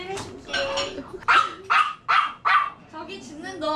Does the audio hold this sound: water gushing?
no